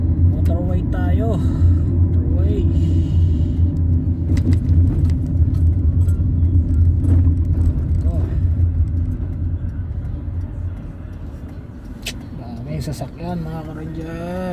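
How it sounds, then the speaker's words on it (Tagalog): Motorway traffic rumbles past, heard from inside a car travelling toward Christchurch, New Zealand, in very strong wind. A low, continuous road drone sits under someone talking throughout. "Sasakyan mga ka-ranger, dami."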